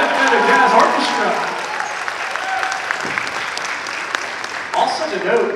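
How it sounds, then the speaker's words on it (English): An audience at a school Christmas jazz concert claps for middle school and youth jazz bands, steady applause across the whole stretch with voices and cheers mixed into the crowd noise. "Can you guys give an applause for the Vale Middle School Swingrays and the Representative Jazz Orchestra?"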